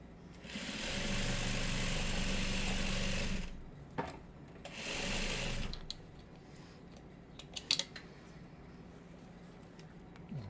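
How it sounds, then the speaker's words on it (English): A sewing machine runs a top stitch in two close, steady bursts of whirring mechanical stitching, the first longer than the second, followed by quieter handling noises and a few sharp clicks. "Just doing a top stitch on here."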